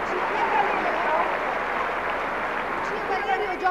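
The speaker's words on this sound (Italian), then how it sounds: "questo lungo applauso" Long applause from the tennis crowd at the 1992 Internazionali d'Italia final in Rome, a dense, steady wash of clapping that stays even throughout, with a commentator talking over it.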